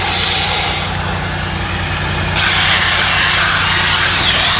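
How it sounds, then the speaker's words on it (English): A power drill whirs loudly and steadily as its spinning brush scrubs carpet, the grinding pitch rising briefly midway and holding through the end. "We'll go ahead and drill brush this real quickly."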